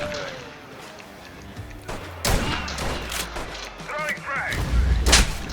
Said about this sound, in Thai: แล้วกูยัดระเบิด